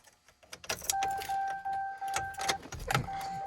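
A car key slides into the ignition of a Chevy Silverado pickup with metallic clicks and jingling, then a steady electronic chime tone sounds over several seconds, close and fairly loud.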